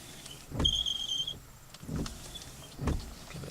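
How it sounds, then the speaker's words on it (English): Windshield wipers run on a 2006 Dodge Ram 1500 after being repaired with magnets and electrical tape: three evenly spaced sweeps, each a low motor thump and rub, heard from inside the cab at a moderate level. "throw my windshield wipers on and give it a little test"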